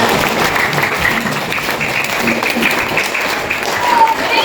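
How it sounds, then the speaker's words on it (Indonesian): Classroom applause from a group of pupils, a steady dense patter of clapping lasting the whole stretch at moderate loudness. "tepuk tangan."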